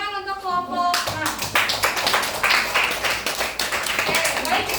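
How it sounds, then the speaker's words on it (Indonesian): Schoolchildren in an elementary classroom clap for a group: after a brief moment of voices, a burst of close, energetic, rapid clapping carries steadily to the end. "tepuk tangan untuk"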